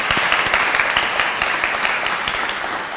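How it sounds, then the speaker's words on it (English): Audience applause at a Yale town hall conversation, dense and steady clapping from a full room that holds throughout and fades slightly at the end. "Round of applause, definitely."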